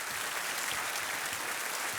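Studio audience applause on the TV quiz show Kaun Banega Crorepati, season 7: dense, steady clapping from a large crowd that fills the whole stretch at an even, fairly loud level.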